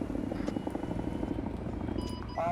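Military helicopter in a combat video game, an MI-24 gunship mentioned nearby, its engine and rotor drone holding steady throughout, loud and continuous, with a brief whine rising near the end.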